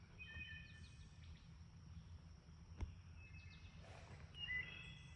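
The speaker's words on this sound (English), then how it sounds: "Just a little bit of time to hear the wonderful birds and to focus on His works" Birds sing outdoors among green trees, faint and scattered chirps and whistled phrases over a steady hum of insects, with one brief sharp click partway through.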